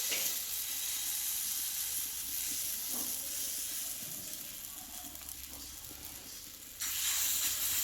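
Spoonfuls of wheat-flour batter fry in hot oil with a steady, close sizzle and hiss that swells louder toward the end, no voices.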